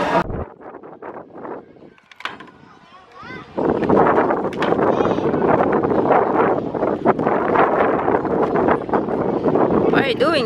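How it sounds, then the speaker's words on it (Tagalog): Gusty wind at a farmyard in Calgary buffets the microphone with a loud, rumbling roar that kicks in after a few quieter seconds, while people talk nearby. "Kasi ang hangin."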